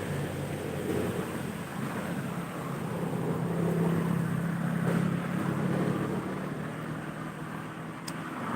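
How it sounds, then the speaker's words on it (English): Strong typhoon wind roars steadily and loudly throughout, a broad continuous rush that swells slightly in the middle with no speech over it. "The wind, guys, it's really getting stronger by the minute. Yes, it's a typhoon."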